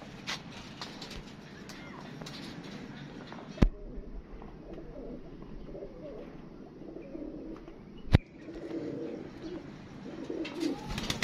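Pigeons coo in a loft where paired flying pigeons are kept, a steady low murmur of birds with two sharp knocks breaking through and faint voices in the background.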